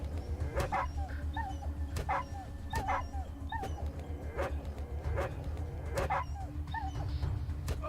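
A dog in the video game Atom RPG yips and whimpers repeatedly in short high cries, spaced about every second over a steady low game hum, fairly close and clear.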